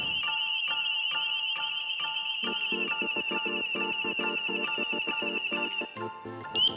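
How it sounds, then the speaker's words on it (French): Home burglar alarm triggered by a motion detector sensing a presence, a piercing steady electronic tone with a rapid pulsing warble beneath it, loud and continuous throughout. "Cette alarme des temps modernes se déclenche lorsqu'elle détecte une présence suspecte."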